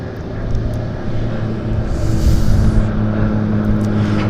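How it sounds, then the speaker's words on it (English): Airplanes buzz around Vancouver harbour, a broad droning rumble of engines over the water that swells louder midway and then eases back. "lots of airplanes buzzing around the harbor"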